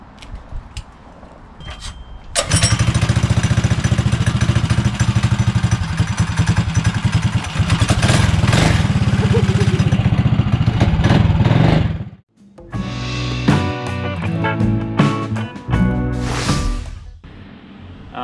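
A GoPowered build-it-yourself kit mini motorcycle engine roars loudly and steadily for several seconds, cuts out briefly, then revs up again in uneven bursts.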